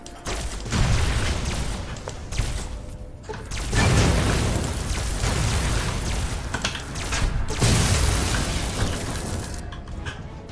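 Grenade blasts in Fallout New Vegas, several heavy booms with crackling, shattering debris arriving in repeated bursts, loud and close, one after another.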